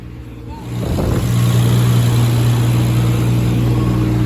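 Tuned Toyota Supra making around 500 wheel horsepower on a dyno, its engine building from a low idle into a loud, sustained high-rpm drone that holds steady, close and dominant.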